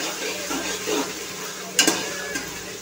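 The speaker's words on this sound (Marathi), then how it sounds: "2 चमचे आलं लसूण पेस्ट आहे, ही सुद्धा कांदा टोमॅटो सोबत आपण छानपैकी फ्राय करून घेऊया" Ginger garlic paste sizzles with onion and tomato in a hot pan for masala pulao, a steady close frying hiss with soft stirring and a couple of sharp utensil clinks against the pan.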